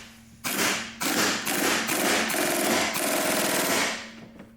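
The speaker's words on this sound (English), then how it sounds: "I'm going to hammer it down, but I'm not going to go crazy hammering it down." A rapid series of sharp metallic hammer blows on a Honda part during a recall repair, about a dozen strikes in quick rhythm, loud and close, tapering off at the end.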